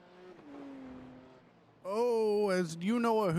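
Two BMW race cars battling at the Hungaroring in iRacing, engines droning and then revving hard and loud, with rising and falling pitch as they fight for position.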